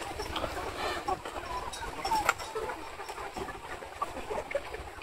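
A flock of chickens kept for sale in a poultry coop, recently treated for a wheezing respiratory illness, gives off a steady murmur of overlapping clucks and soft calls at moderate distance, with no talking.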